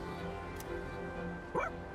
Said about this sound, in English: What a smart dog!